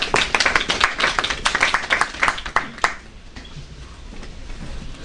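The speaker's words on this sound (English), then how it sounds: "give applause" A small classroom audience breaks into brisk clapping, dense and fairly close for about three seconds, then it abruptly stops and fades into quiet room tone.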